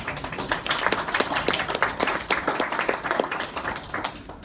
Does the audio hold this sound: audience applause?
yes